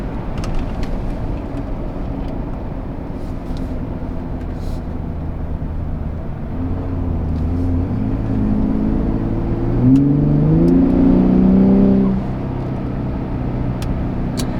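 Gen 3 Ford Raptor 3.5L on its stock exhaust in Baja mode, a low idle rumble that rises into a brief rev around the ten-second mark, then drops back to idle.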